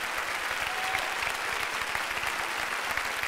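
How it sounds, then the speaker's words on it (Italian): Studio audience applause fills the space after an Italian television comedy performance, a dense, steady wash of many hands clapping at constant loudness throughout, with no voices standing out. "Carlotta Natoli, Mario Dinolfi, meritano un grande applauso."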